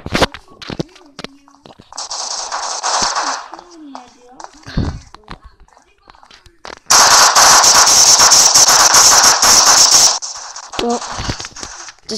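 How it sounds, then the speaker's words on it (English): Rapid gunfire in the video game Prop Hunt comes in loud bursts, with short volleys early on and a long sustained barrage in the second half, as players chatter over and between the shots. "You shot everything?"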